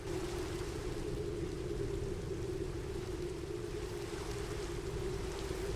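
Rain from a video game weather mod falls on ordinary ground, a continuous close wash of patter and hiss that holds an even level throughout, with no talk.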